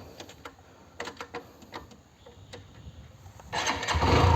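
A new motorcycle is started: a few quiet clicks and taps come first, then the engine catches and rises into a louder, steady running rumble near the end.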